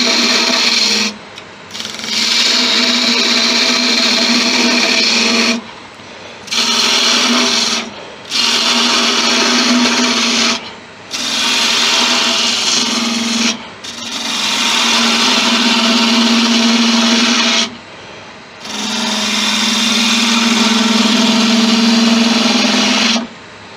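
Wood lathe roughing out a large driftwood snowman, loud scraping cuts in long bursts separated by short pauses, each pass a harsh rasping roar.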